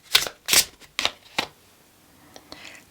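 Tarot cards shuffled by hand in a few quick riffling bursts, close and crisp, then a near-silent pause with a couple of faint card taps.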